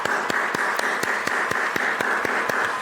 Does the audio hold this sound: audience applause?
yes